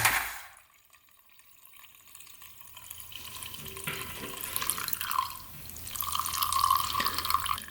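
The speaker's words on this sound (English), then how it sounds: "Getting plenty of gas to the carb." Gasoline runs from the fuel tap of a cheap café motorcycle, switched to reserve, down to the carburetor in a thin, steady trickle with small splashes and drips that grows fuller as it goes.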